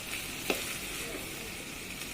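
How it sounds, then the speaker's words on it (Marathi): Soft, continuous sizzle of fresh turmeric and ingredients frying in oil in a clay pot for vegetable biryani, with a brief scrape or tap near the start. "चांगलं गुलाबी रंगावर तळत आहे"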